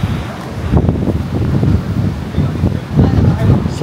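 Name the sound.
wind blowing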